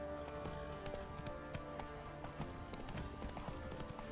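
Horse hooves clip-clopping at a steady rhythm in The Witcher 3 video game, loud and continuous over a layer of game ambience and music, with faint voices in places.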